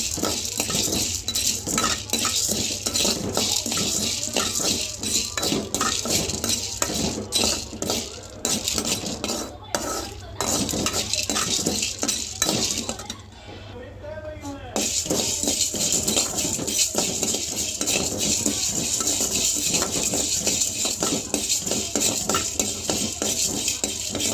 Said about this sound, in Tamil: இப்போ அதே பேனில் கடலைப்பருப்பு போட்டு நல்லா பொன்னிறமாக வறுத்துக்கணும்